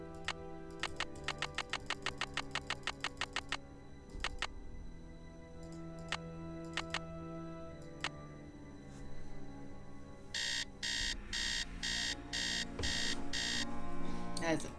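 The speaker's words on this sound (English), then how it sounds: "Remember when alarm clocks all sounded like that?" An old-fashioned alarm clock rings in the Nancy Drew game Message in a Haunted Mansion. A rapid run of metallic clattering strikes comes first, then a later series of bright, evenly spaced ringing bursts, all over a steady background music bed.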